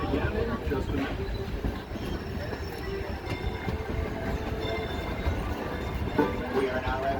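A Disneyland Railroad train rolls into Tomorrowland Station with a continuous rumble and clatter of the cars on the track, loud and close, while an announcer speaks over it.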